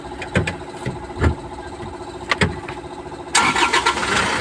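An Isuzu Travis diesel engine cranks briefly and catches, settling into a steady idle close by, then a louder broadband roar rises near the end as it revs.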